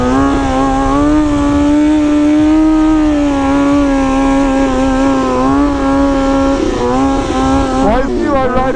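A motorcycle engine holds a high steady rev during a wheelie in a prison courtyard, loud and close with a sustained strong tone, then dips and surges near the end.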